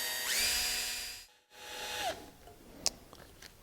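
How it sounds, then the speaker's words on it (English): A drill bit bores gently into the aluminum face of a Volkswagen Golf ignition lock cylinder, a whining spin that stops briefly and resumes, followed by a couple of sharp clicks close by. "we're going to go where we made our mark, and we're gently going to drill"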